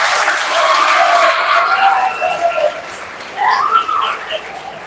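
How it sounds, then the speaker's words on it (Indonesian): Boys at a junior high Islamic boarding school in Makassar applauding their teachers: a soft, hissing wash of many hands from a crowd, somewhat distant and rain-like, with faint voices rising within it. "Tepuk tangan dulu untuk pengajar."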